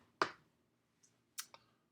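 A few sparse, faint keystrokes on a computer keyboard, one sharp click followed after a pause by a couple of quieter taps, in an otherwise quiet room.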